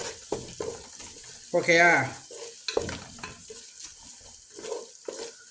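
Garlic sizzles in a pan as a spoon stirs it, with clattering scrapes and a brief louder burst of frying, while a voice speaks briefly nearby.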